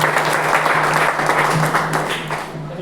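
A church congregation claps loudly and steadily, a dense, even applause that fades slightly toward the end, with no speech over it.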